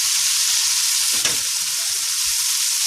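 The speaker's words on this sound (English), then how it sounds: "with the remaining oil, I would add the veggies in there and cook it till the onion is somewhat translucent." Vegetables and onion frying in leftover oil for Cuban oxtail, giving a loud, continuous sizzle up close with one brief stir or scrape partway through.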